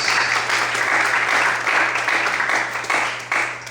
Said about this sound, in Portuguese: Vamos aplaudir bem forte e glorificar o Senhor nessa noite.